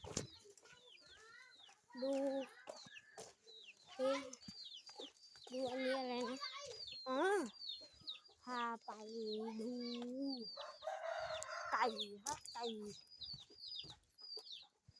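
Fighting roosters crow and cluck repeatedly at close range, with overlapping calls and squawks throughout, while voices chatter faintly in the background.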